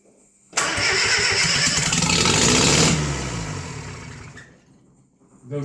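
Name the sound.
rebuilt Bedford CA engine cranking, attempting to start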